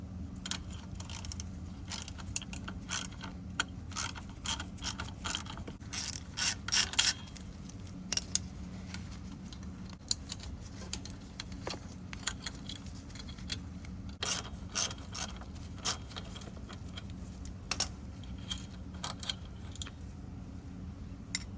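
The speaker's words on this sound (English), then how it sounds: "let's go ahead and undo the brake line" Undoing the brake line on a Razor E300 electric scooter: a run of small metallic clicks, ratcheting and fiddly mechanical rattles, close by, with brief clustered bursts over a steady low background hum and no talk.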